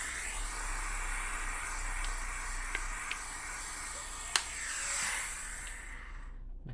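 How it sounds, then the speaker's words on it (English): A garment steamer hisses steam onto fabric while removing a jock tag from an Adidas garment, a continuous soft hiss with a few sharp clicks, ending in sudden silence near the close. "Get the steam going again."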